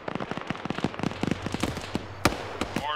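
Artillery rounds in a military video game land as a dense run of distant popping, crackling impacts, one sharper blast near the end and a faint falling whistle trailing after it.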